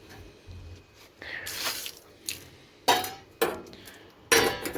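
Water poured into a rabbit's bowl through the cage mesh, heard as a few separate splashing pours with clinks and drips in between, close and fairly quiet, with no voices.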